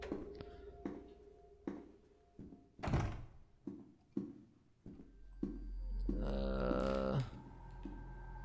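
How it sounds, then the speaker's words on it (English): A door being tried and rattled in the horror video game Song of Horror: a series of dull wooden thunks and knocks at irregular intervals, then a longer creaking, scraping rumble near the end. "Okay, let's try this door."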